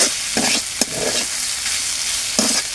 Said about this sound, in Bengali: আমার সিম ভাজিটাও হয়ে গেছে, একেবারে লাল লাল করে একটু ভেজে নিলাম।